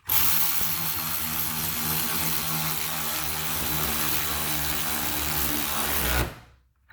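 A 12V cordless 3/8-inch ratchet drives a bolt threaded through a spring with washers, its motor whirring loudly and continuously for several seconds before cutting off abruptly.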